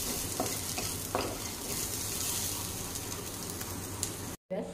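Thinly sliced onion browning in a spoonful of oil for a South Indian chutney, a steady close sizzle with occasional stirring scrapes, alone, ending in a brief dropout.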